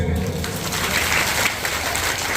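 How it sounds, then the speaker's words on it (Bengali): A crowd claps after a speech on protecting women, giving a continuous, fairly even wash of applause at moderate volume with no one speaking. "আশা করি হাততালি দেবেন"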